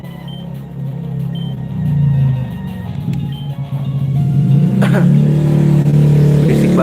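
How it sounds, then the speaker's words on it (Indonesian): A loud motorbike passes outside, its engine droning low and rising as it revs and grows nearer, a sustained rumble that swells toward the end. "Berisik banget motor anjing"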